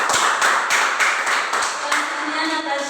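A classroom claps after a student retells a story about a rabbit and a beaver. The group gives a steady, dense round of clapping with a regular rhythmic pulse, close and fairly loud, throughout.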